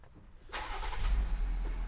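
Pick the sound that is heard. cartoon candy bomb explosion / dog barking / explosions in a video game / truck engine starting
truck engine starting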